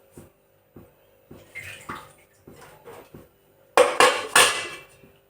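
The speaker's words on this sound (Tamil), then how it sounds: "மூடி வச்சிடலாம்." A lid set onto a cooking pot in a home kitchen while making puttu, a series of light metallic taps and knocks ending in a few louder clanks, close and alone with no talking.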